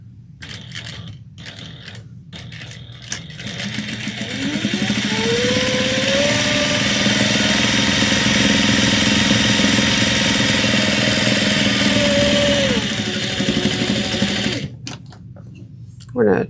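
A sewing machine stitches a fabric dog collar, whirring up to a steady, loud mechanical rattle for several seconds before slowing and stopping, with brief clicks and handling noises before and after.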